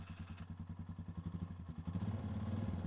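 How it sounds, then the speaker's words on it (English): An adult ATV engine idles on level ground with a steady low chugging pulse, rising slightly and getting rougher toward the end, moderately quiet with no voices. "start the engine and let it idle for 20 to 30 seconds"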